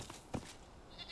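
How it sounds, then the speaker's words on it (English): Northern goats in a video game base pen give a short, faint bleat amid quiet background ambience. "So these are my northern goats."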